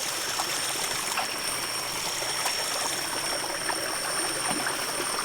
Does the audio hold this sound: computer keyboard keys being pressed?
no